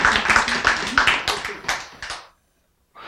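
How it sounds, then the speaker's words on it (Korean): Hands clap in a burst of applause for about two seconds, loud and dense, then it stops abruptly into silence. "박수."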